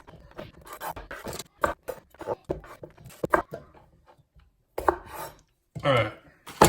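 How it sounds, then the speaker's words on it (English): Potatoes cut up with a very dull knife: a run of close, irregular chopping thuds and scraping strokes against a board, with short pauses and a scrape near the end, no voices. "I'm going to go ahead and cut these up"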